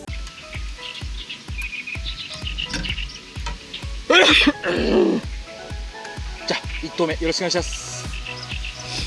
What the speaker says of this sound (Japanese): 鳥のさえずりが凄まじく聞こえますが